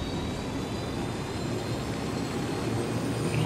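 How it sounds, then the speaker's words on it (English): Steady loud rotor and engine drone of a helicopter flying in a video game's Ghost Mode, a continuous broadband roar with no pauses or voices. "Hop into your helicopter and fly over."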